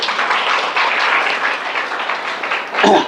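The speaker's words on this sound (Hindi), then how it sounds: "सब लोग ताली बजाओ अपने लिए, वेरी गुड" Students in a classroom clap for themselves, a steady burst of applause from a group lasting a few seconds, with a sharper flurry near the end.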